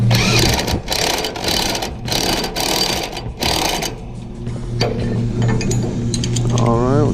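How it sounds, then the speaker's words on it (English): An impact wrench tightens a nut on a door safety latch bolt of a 2005 Vac-Con vacuum truck, firing several rapid rattling bursts in a row before the tool stops and a mechanical hum carries on. "Grab our wrenches, our wrench on the bolt side, impact on the nut side again"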